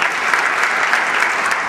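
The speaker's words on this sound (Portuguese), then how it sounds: "Pessoal, uma salva de palmas para essas empresas que estão acreditando no nosso setor." Audience applause at a Brazilian photo and video trade event, honouring participating companies: dense, steady clapping from a crowd, even and sustained throughout, with no voices on top.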